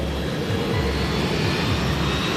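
A Boeing 757 jet airliner rolls for takeoff at night, its engines a loud, dense, steady roar with a broadband rumbling hiss that fills the whole stretch without pause or talk.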